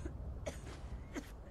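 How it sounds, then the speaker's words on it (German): Characters in the video game Fallout 76 cough, two quiet, brief coughs spaced about a second apart over a faint background hum. "Oh nein, die husten, da ist bestimmt Corona."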